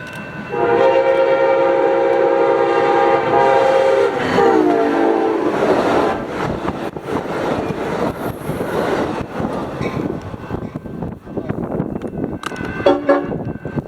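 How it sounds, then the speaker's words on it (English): Amtrak 580, led by SC44 Charger locomotive 2109, sounds a loud sustained horn blast at Carlsbad Village Station, then rumbles past with rolling wheel and car noise, ending with a brief second horn toot. "Amtrak 580 would roll by with SC44 Charger 2109 in the lead"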